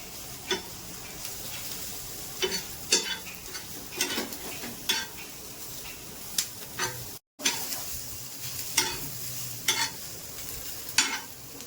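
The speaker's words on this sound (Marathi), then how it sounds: "कांदा परतत असतानाच आलं आणि लसूण आपल्या आवडीप्रमाणे ॲड करायचं" Onion sautéing with ginger and garlic in a pan, a steady soft sizzle punctuated by repeated scraping stirs of a spoon against the pan, close and continuous with a brief dropout midway.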